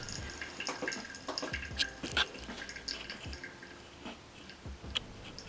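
Hot water from a kettle is poured over a V60 paper filter in a pourover brewer, with soft trickling and dripping plus scattered clinks and light knocks, close and quiet.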